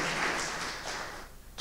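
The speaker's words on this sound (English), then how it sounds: "let's hear a big round of applause for Aya and Albert" Audience at a tech conference stage applauding, a dense wash of clapping that is loud at first and fades out over about a second and a half, no voices over it.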